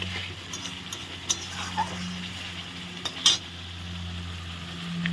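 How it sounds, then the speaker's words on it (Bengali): Spices being stir-fried in a pan for a spicy Bengali eggplant dish (begun jhal), a steady close sizzle with a few sharp scrapes and clinks of the spatula against the pan. "মশলাগুলো দিয়ে এখন একটু ভালো করে কষিয়ে নিচ্ছি"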